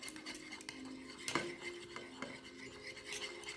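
A spoon stirs a cooling, thickening milky face scrub mixture in a bowl, heard as soft scraping and light clinks of utensil against the container, close and quiet, with no voices.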